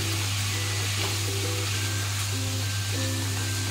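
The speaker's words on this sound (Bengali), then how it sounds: "এবার এটা ভালো করে কষিয়ে নেব।" Fish and spices sauté in a pan with a steady, close crackling sizzle over a low constant hum, continuous with no talking.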